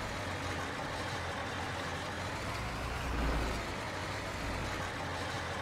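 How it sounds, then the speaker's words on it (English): A tractor engine in Farming Simulator 22, fitted with added air-hose sounds, idles in a steady low diesel rumble that swells briefly midway, fairly quiet and with no voices. "Oh, the sounds on this tractor."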